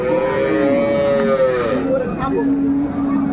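Cattle mooing at a busy livestock market in Raniganj, Dinajpur, where cows are sold with their calves; one long, loud low moo, then a second call rising partway through, set against steady crowd noise.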